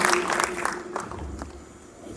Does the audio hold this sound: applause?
yes